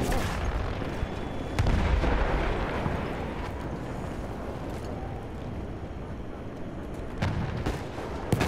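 A grenade blasts in a World War I video game: a heavy low boom rises sharply amid ongoing battle noise, with further distant gunfire and rumbling continuing around it.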